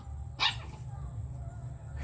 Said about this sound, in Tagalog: Yun na yung aso.